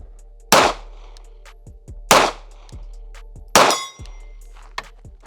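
Three loud, sharp shots from a Bodyguard pocket pistol, each followed by a ringing clang from steel targets, spaced about 1.5 seconds apart with a fainter ding near the end.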